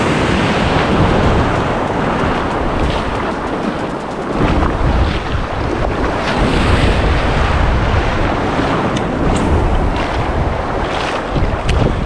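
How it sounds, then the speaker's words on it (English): Ocean waves breaking in the Galveston surf, a loud churning wash of water and wind that swells and falls across the whole stretch, with a boat rocking in the breakers. "go again as soon as that wave breaks"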